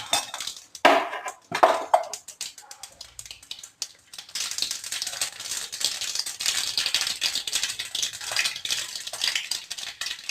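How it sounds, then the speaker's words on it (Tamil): Mustard seeds and urad dal crackling in hot oil for a coriander chutney tempering: a few clinks of the pan, then a dense, steady spattering crackle that continues to the end. "கடுகு உளுந்து பொரிஞ்சிடுச்சுங்க."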